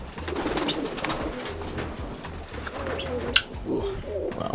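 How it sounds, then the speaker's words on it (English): Pigeons coo nearby in an enclosure in Jamaica, soft low repeated coos rolling along steadily over faint background rustle, with no talking. "Ah, so he has pigeons in here."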